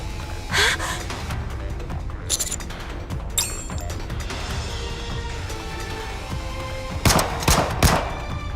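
Gunfire in the video game Nikke: Goddess of Victory, a few sharp shots early and a quick burst of several rapid shots near the end, set against a busy game background with mechanical clicks.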